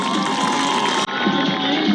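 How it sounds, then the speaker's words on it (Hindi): Loud, continuous crowd noise with cheering and clapping at a PTI political rally in Pakistan, a dense roar that cuts briefly midway before resuming. "मजा नहीं आया आपकी तालियों का?"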